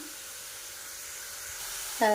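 Chopped onions sizzle in hot oil in a home kitchen pan, a soft, steady hiss running underneath, joined near the end by a voice speaking.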